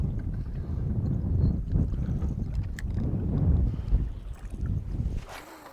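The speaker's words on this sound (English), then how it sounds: "the wind's blowing more offshore now" Offshore wind blowing across the Welsh coast at a bass fishing spot, a steady low roar of gusty wind buffeting the microphone throughout, with no voices.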